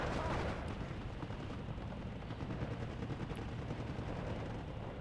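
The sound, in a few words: artillery fire in the video game Steel Division 2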